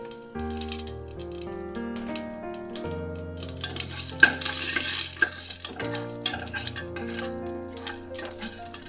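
Whole spices, cinnamon, cloves, cardamom, black pepper and cumin, dropped into a hot pan for vegetable pulao, giving a soft sizzle and rattle under sustained background music, with stirring scrapes toward the middle.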